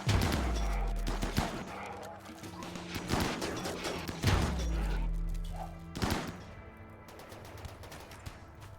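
Turrets in RimWorld fire at raiders in bursts of sharp gunshots and rattling automatic fire. Booming thuds recur every second or so, with quieter pauses between volleys.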